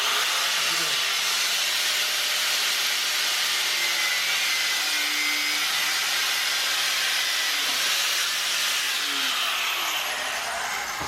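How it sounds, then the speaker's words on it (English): Grinder cutting during a turbo LS swap on a 1986 Chevrolet C30 dually, a continuous bright hiss with a few faint tonal whines that stays steady and loud throughout, with no talking. "Just use a grinder for this."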